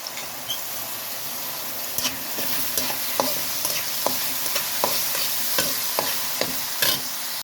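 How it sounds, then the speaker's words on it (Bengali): Hilsa fish frying in hot oil in a frying pan, a steady close sizzle broken by repeated scraping stirs of a spatula at regular intervals, no talking. "মাছ ভাজার জন্য ফ্রাই প্যানটা আমি গরম করে নিয়েছি এদিকে, আর তেল দিয়ে দিলাম, মাছটা দিয়ে দিলাম।"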